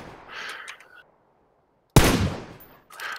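Gunshots in PLAYERUNKNOWN'S BATTLEGROUNDS: a single sharp, loud report cracking out after a near-silent pause, decaying quickly, with faint game sounds before and after.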